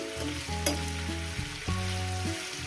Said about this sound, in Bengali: ভালো করে সুন্দর করে এটাকে আমি ভেজে নেব